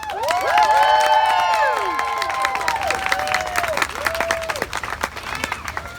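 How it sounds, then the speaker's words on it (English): A crowd at a political rally breaks into loud applause with whoops and whistles rising over the clapping, then settles into steady clapping that fades slightly. "So let's give a round of applause for Sheila."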